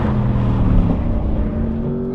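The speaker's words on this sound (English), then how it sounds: "You can just hear the engine open its lungs up." A race car engine revs hard on a racetrack, a loud, close, rising mechanical roar that climbs in pitch across the short burst, with no voices.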